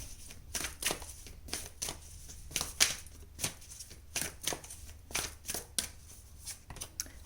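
Hand shuffling of a tarot deck, with quiet close riffles and flicks repeating in short uneven bursts and nothing spoken over them.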